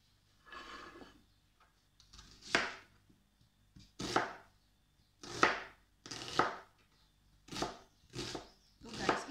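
Knife chopping onion on a cutting board for salmon sinigang, with irregular bursts of several quick cuts at a time and short pauses between them, fairly close and moderately loud.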